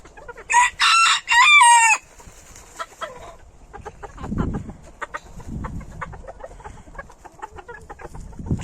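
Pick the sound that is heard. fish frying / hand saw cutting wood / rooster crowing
rooster crowing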